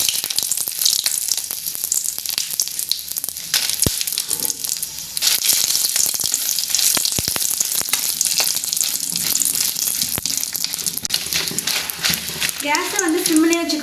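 Dried red chillies roast in a dry pan while black urad dal idli powder is made, giving a loud, crackly sizzle with frequent sharp clicks and scrapes of stirring. A voice speaks briefly near the end.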